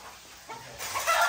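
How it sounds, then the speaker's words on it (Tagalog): Chickens cluck and squawk nearby, growing louder over a second and a half against faint background noise. "Aray ko, ang ingay-ingay ng manok."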